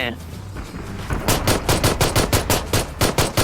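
Automatic gunfire in the mobile game PUBG Mobile: after a short lead-in, loud rapid shots rattle out in a steady burst of about a dozen close reports.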